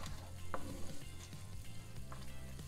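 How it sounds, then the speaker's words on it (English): Onions and garlic saute in melted vegan butter, giving a soft, continuous frying sizzle with faint stirring scrapes, fairly quiet and close throughout. "So now's the time to throw in your onions and garlic. And let that start to saute."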